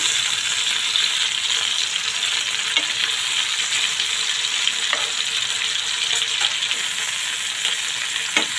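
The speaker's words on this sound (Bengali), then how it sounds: "আমি একটা সাইডে প্রথমে ভালো করে ভেজে নিচ্ছি।" Pumpkin leaf fritters made with dried chepa shutki fish sizzle steadily in hot oil, a dense, continuous crackling fry close up with occasional faint scraping taps throughout.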